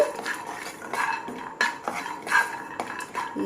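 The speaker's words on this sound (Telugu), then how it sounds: "ఇప్పుడు ఇదే ప్యాన్లో 2 స్పూన్ల వేరుశనగపప్పు, దీన్ని కూడా బాగా వేపుకోవాలి." Two spoons of peanuts being dry-roasted and stirred in a pan for a multigrain drink mix, with repeated light scraping and clinks of a spoon against the metal pan, close and steady over a soft background.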